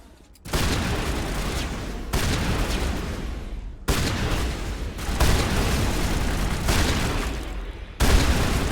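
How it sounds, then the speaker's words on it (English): Shotgun fire in the Mass Effect video game comes as heavy, booming blasts: several sustained loud bursts broken by abrupt cuts, dense and close with no pauses of silence. "Get the shotguns out, Wrex."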